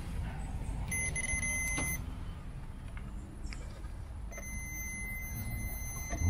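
A continuity tester checks a tile saw's mini breaker and power switch, giving a steady electronic beep that sounds for about a second, stops, then returns as a longer tone over a low background hum.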